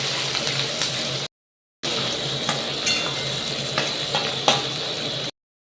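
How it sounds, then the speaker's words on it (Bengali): Sliced onions for biryani birista frying on high flame in butter and oil, a steady loud close sizzle with stirring scrapes, briefly cut off twice, with no talking. "হাই ফ্লেমে না ভাজলে পেঁয়াজ গলে যাবে, সেই জন্য হাই ফ্লেমে বেরেস্তাটা ভেজে তুলে নেবো।"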